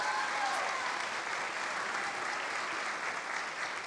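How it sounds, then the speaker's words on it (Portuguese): Congregation applauding at a Paz Church service in Boa Vista, a steady wash of many hands clapping at once that carries on evenly throughout. "Você pode aplaudir Jesus?"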